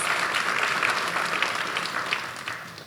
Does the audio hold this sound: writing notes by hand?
no